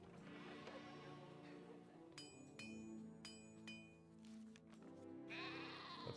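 Sheep bleat in the Caesar 3 city-building game, heard faintly among steady game ambience, chiming clinks and background music, without any speech.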